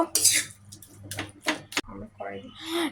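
A utensil scrapes and clinks in a kadai while momo filling is stirred with tomato sauce, a few short metallic strokes with a voice speaking over them.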